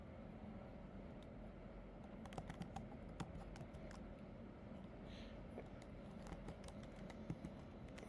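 Keys clatter as code is typed on a computer keyboard for an Arduino UNO lesson, soft irregular taps close by over a faint steady background hum.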